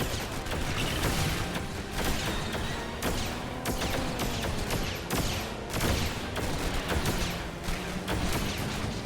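In the LEGO Batman video game, missiles strike a villain during an animal-villain boss fight, producing a dense, loud barrage of repeated explosive impacts and crashes that continues throughout.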